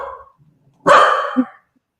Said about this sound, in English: we got a dog that's hungry or something